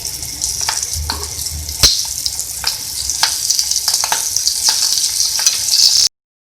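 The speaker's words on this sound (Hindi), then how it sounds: "ये देखिए हमारे मिर्ची जो है हर तरफ से फ्राई हो चुके हैं।" Green chillies frying in a pan, turned over partway, giving a bright, constant sizzle up close, broken by sharp spatula knocks and scrapes, one louder clack near the start, before cutting off abruptly.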